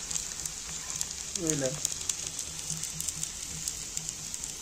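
Onion thalipeeth roasting in oil and ghee on a pan, a soft, steady crackling sizzle with scattered pops, while a nearby voice briefly speaks over it.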